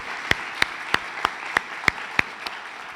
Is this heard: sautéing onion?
no